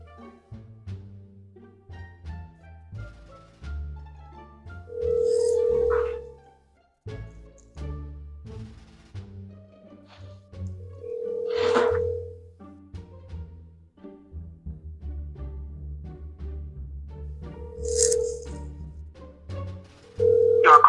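A telephone ringback tone pulses in three or four evenly spaced bursts while calling someone back, each ring clear and moderately loud over a faint low background hum.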